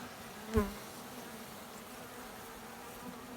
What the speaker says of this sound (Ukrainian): Починається бджола.